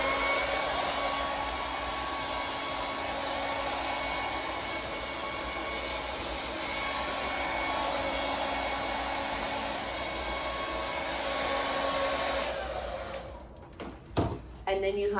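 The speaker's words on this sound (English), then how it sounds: "So I took the blow dryer." Blow dryer warming bed sheets during a layover in the Dominican Republic: a loud, steady whooshing hum runs for about twelve seconds, then cuts off into brief handling thumps and rustles.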